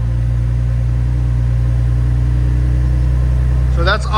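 A 2026 RAM 1500 Rebel with the 3.0L Hurricane inline-six idles through a Flowmaster Super 10 exhaust, giving a steady, loud, deep drone. A voice briefly speaks near the end.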